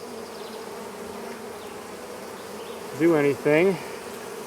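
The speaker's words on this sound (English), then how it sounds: "I think the bees are leaving it on their own" Bees buzzing steadily around a box in a cat house, with a voice speaking briefly over the hum near the end.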